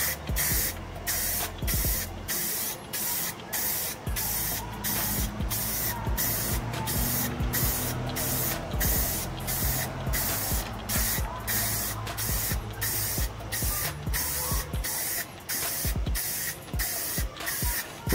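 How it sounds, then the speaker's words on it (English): Rust-Oleum gloss white spray paint is applied to a Dollar Tree vase mounted on a stick, heard as a long run of close, loud, rhythmic hissing bursts that repeat steadily throughout. "We're gonna hit it with a coat of Rust-Oleum gloss"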